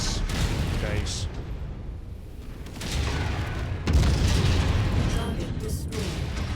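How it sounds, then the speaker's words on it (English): Ammunition explosion on a mech in MechWarrior 5, heard as heavy booming blasts and crackling bursts within dense battle noise, with a sharp strong impact partway through and voices talking over the din. "since he's getting ammo explosion"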